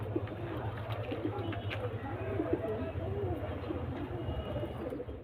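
Breeding pigeons in a loft in Khidirpur, Kolkata, coo steadily in low, rolling, repeated calls close by, over a constant low hum, with a voice faintly present.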